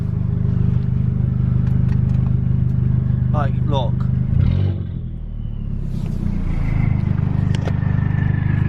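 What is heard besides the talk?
straight-piped Audi TT Mk1 engine revving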